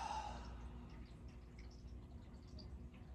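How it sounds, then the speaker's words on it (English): A person slowly exhales during a guided relaxation and body-scan meditation, a soft, faint breath that trails off early and leaves quiet room tone. "and exhale it out."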